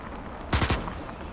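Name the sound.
assault rifle firing in video game Osiris New Dawn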